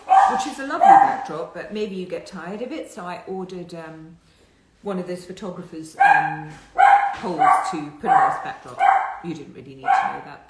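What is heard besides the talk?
dog barking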